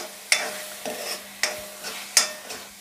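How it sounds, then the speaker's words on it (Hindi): Ground spices, including cinnamon, fry in a pan for potato kofta gravy, with a close, steady sizzle broken by regular scraping strokes of a spoon about every half second. "मसालों को भी फ्राई कर लेंगे।"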